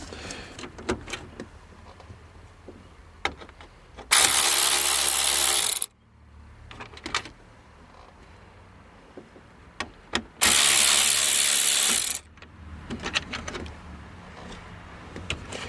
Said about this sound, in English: Just takes 3 screws to remove this little panel here.